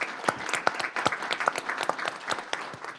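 At a county board of education special meeting, an audience gives a speaker a round of applause. The clapping is fairly sparse and distinct, with individual claps standing out, and it sounds moderately close.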